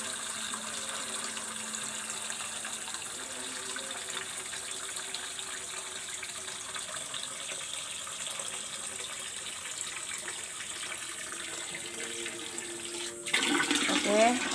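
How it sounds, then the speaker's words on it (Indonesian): A kitchen tap runs in a steady, fairly quiet stream early in the morning, with a brief louder gush near the end and no talking. "Aku matiin kerannya, aku kecilin aja."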